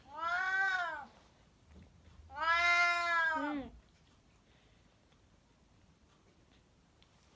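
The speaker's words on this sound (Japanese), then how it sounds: "猫が来ました。" A cat meows twice up close, each a drawn-out, rising and falling cry about a second long, with a quiet gap between them and only faint room noise afterward.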